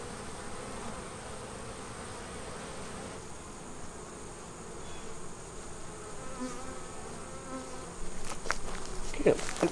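Honey bees buzz steadily around a hive while a queen is being installed, a dense continuous insect drone close by, with a few sharper clicks and knocks near the end.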